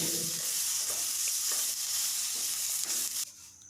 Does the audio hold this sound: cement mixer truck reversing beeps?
no